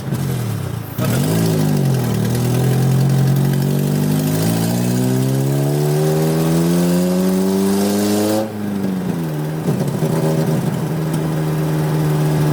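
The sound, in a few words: Honda Civic EF with K24 engine swap revving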